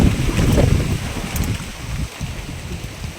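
Strong wind gusting across a corn field, a heavy, steady rumbling roar with blustery buffeting against the microphone, close and loud throughout with no voices.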